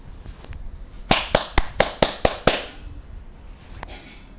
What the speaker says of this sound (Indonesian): Mari sama-sama kita kasih aplaus untuk kelompok 1 dan kelompok 2.